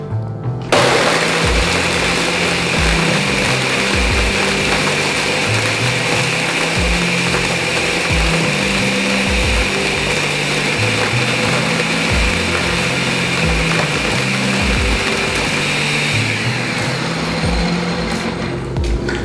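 A blender churning ice, Hennessy and peach limeade into a slushy: a loud, continuous grinding whir that starts abruptly and runs steadily for nearly twenty seconds, close by and alone.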